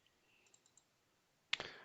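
A computer mouse clicks during short-circuit analysis software work: faint light ticks early on, then one sharper, louder click near the end in a quiet room.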